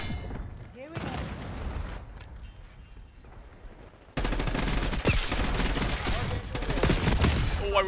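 Rapid automatic gunfire and explosions fill a Black Ops 6 multiplayer match, steady at first and then jumping louder into a dense continuous barrage, with players talking over it.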